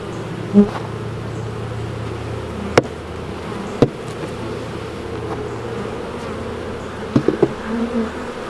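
Honey bees buzz steadily around an open, crowded hive, a close continuous drone with a few sharp knocks and clicks from handling the equipment.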